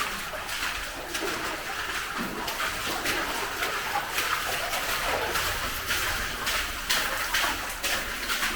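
Steady rushing water flows continuously through an abandoned tungsten mine tunnel, a broad hiss that echoes in the enclosed space, with no pauses throughout.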